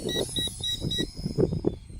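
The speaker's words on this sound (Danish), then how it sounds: "Nu får vi alarmen for, at der er lav batteri." Eachine E520S drone sounding its low battery alarm: a rapid series of four short, high-pitched beeps in even rhythm, followed by fainter beeps, over a rough, rumbling background.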